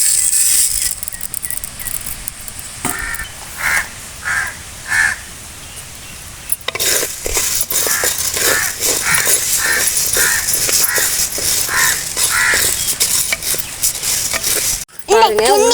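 Finger millet and urad dal dry-roasting in a pan, stirred with repeated scraping strokes that grow steadier midway, while crows caw loudly nearby throughout.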